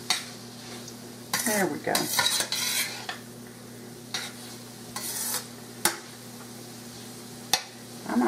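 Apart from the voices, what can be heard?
garlic sizzling in a pan for marinara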